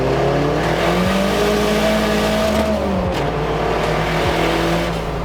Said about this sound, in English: Then I had to get into full throttle to make sure everything held together.